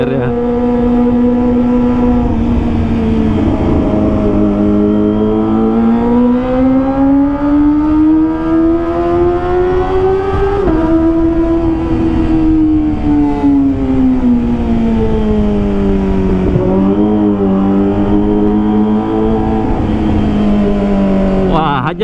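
A Kawasaki ZX25R motorcycle engine revs hard and steadily, its pitch climbing and falling in long sustained sweeps, loud and close the whole time with voices talking over it.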